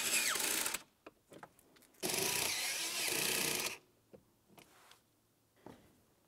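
A power tool drives mounting bolts into a Nissan Titan radio bezel in two loud bursts of whirring, followed by softer clicks and handling noises close by.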